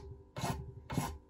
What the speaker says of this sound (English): give this end that we've cut a little bit of a clean up with a file